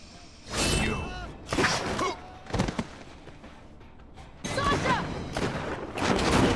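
Pistol gunfire in the Tales From the Borderlands video game: several bursts of loud, crackling shots and impacts come in clusters with brief gaps between, mixed with game noise and voices.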